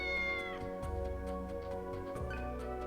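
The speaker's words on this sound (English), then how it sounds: "Cat's still here." A cat in the video game Digital Devil Saga 2 meows a few times over a soft, sustained game music background, with faint ticking beneath.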